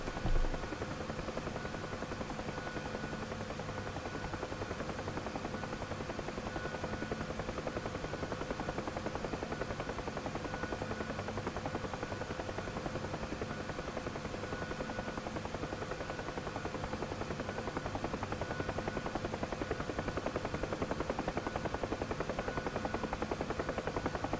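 A UH-1H Huey helicopter in DCS flies over the Normandy 1944 map, its rotor and turbine making a steady, dense, unbroken drone that stays loud and even throughout with no speech.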